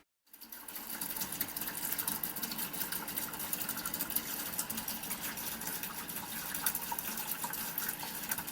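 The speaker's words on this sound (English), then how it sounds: "you can see the steam coming out of the faucet here" Steady rushing of hot, steaming water pouring from a faucet in a Sprinter camper van, continuous and fairly loud with a broad hiss, starting abruptly and running without pause.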